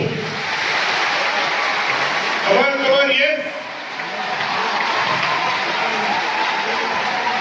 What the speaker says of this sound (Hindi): आप अपने लिए पूरे जोश के साथ तालियां बजाएंगे